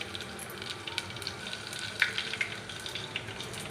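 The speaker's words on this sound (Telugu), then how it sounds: "దొండి పక్కనే తాలింపుకైతే పెట్టేసుకున్నాను తాలింపులో ఎండుమిర్చి తెల్లగడ్డ ఇక పోపు దినుసులు" Dried red chillies, garlic and tempering spices fry in oil with a soft, steady sizzle and small crackling pops, fairly quiet and without speech.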